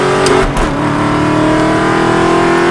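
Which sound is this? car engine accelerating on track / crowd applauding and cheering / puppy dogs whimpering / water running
car engine accelerating on track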